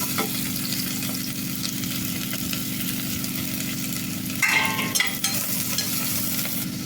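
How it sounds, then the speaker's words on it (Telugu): Long-cut onion slices fry in hot oil inside a pressure cooker for a butter beans masala curry. A close, steady sizzle runs throughout, with a brief stirring scrape partway through. No one speaks. "ఈ విధంగా పొడవు కట్ చేశాను మనం మిక్సీకి వేసుకుంటాం కాబట్టి కొంచెం పెద్దగానే కట్ చేసుకోండి మంచిగా వేగాలి"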